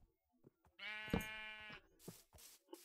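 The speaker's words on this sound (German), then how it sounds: "Hallo Schaf" A sheep in the video game Minecraft gives one clear, wavering bleat lasting about a second, close and alone, followed by a few faint clicks.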